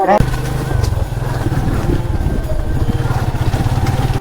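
Motorcycle engines idling and revving close by at a bike parking spot near Utma Chora in Sylhet, a steady throbbing putter with short blips, under faint background voices.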